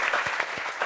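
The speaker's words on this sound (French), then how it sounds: "Parfait, applaudissements de ça." Brief burst of audience applause at a gathering on workplace sexual harassment, a steady patter of many hands clapping with some voices mixed in.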